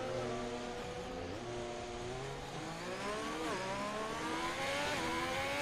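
A race car engine in a racing video game at Imola roars steadily and loudly, with rising and falling revs as the car is kept going after a spin.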